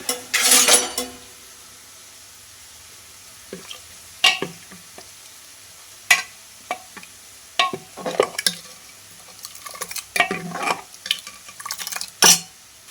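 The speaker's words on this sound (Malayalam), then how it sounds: "ചീര ആയിട്ടുണ്ട് നമുക്ക് അതിലേക്ക് ആ തേങ്ങയുടെ മിക്സ് ഒഴിക്കാം" Coconut mixture is poured into a Palakkad-style spinach curry and stirred, with an initial burst of pouring and sizzle followed by intermittent spoon scrapes and clinks against the pan, close and otherwise quiet.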